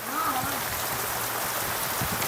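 Heavy rain pouring down steadily, a dense loud roar of drops hitting surfaces with no break, close by, faint voices briefly under it.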